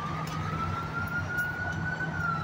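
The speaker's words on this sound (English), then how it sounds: "Two ambulances." An ambulance siren wails in a long, slowly rising tone over steady low city traffic rumble, heard from a bridge on a busy street while walking home from a train line.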